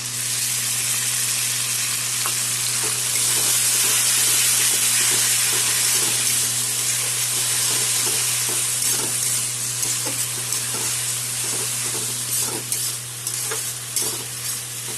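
Tomato paste sizzles and fries in a pan with a constant hiss, punctuated by repeated stirring scrapes, close up and with no talking.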